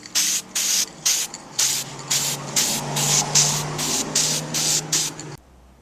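Epoxy appliance spray paint hisses from an aerosol can onto a 1936 Philco 630B radio part in about a dozen short, close, regular bursts, ending in near silence.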